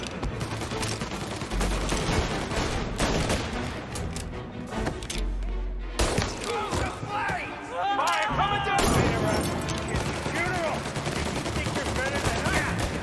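Gunfire in a shootout from the 2020 game Mafia Definitive Edition: dense bursts of pistol and machine-gun shots and impacts, loud and close, with shouting voices mixed in over the shooting.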